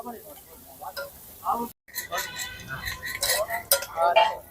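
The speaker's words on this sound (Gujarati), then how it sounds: "પછી થોડી વાર ફ્રાય થવા દઈશું." Pav bhaji ingredients frying in a pan, with a steady sizzle under repeated metal clinks and scrapes of a utensil, close by, alongside brief talk.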